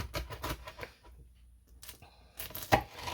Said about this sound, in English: Always cut my sheet pan pizzas in 8s, just like that.